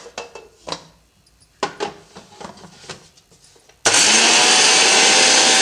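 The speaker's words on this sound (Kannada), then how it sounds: "ಈಗ ಅದನ್ನು ಸ್ವಲ್ಪ ಗ್ರೈಂಡ್ ಮಾಡ್ಕೊಳ್ತೀನಿ." Mixer grinder grinding grated dry coconut: a loud, steady roar starts abruptly partway through and runs to the end, preceded by a few clinks and knocks of kitchen handling.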